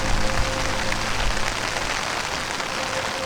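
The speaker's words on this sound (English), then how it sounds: "There is still more rainfall." Steady winter rain falls in a dense, even patter on surfaces nearby, loud and continuous with no voices.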